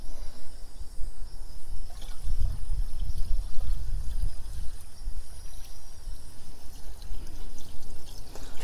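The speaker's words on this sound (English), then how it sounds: "So you just slowly pour your sap through this thin filter into another clean bucket." Maple sap is poured slowly through a thin filter into a clean bucket, making a steady, close liquid rush and trickle with low, uneven sloshing.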